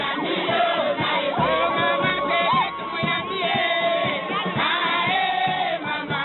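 A huge crowd cheers and shouts in welcome for a politician touring Bagata territory, a dense, loud, continuous roar of voices with rising calls throughout.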